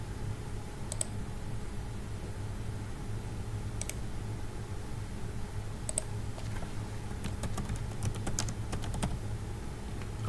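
Keys clatter on a computer keyboard while a new part name is typed in CAD software, with bursts of quick clicks spread over a steady low hum of room noise and no talking.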